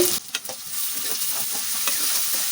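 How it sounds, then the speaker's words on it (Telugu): Three broken dried red chillies and half a spoon of salt sizzle steadily in hot tempering oil for an aubergine fry, a continuous close hiss with a few light stirring scrapes near the start. "మూడు ఎండుమిరపకాయలు వేసుకోవాలి, తుంచేసుకోవాలి. తాలింపులోనే వేసుకోవాలి."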